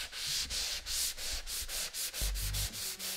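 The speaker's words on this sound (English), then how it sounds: "you just want to sand them all down to where you can make it as flat as possible" Sandpaper rubs back and forth over drywall joint compound seams, about 80 grit on quick-setting 20-minute mud, giving steady rhythmic scratchy strokes roughly every third of a second. The sanding is close and loud, with a brief low thump near the end.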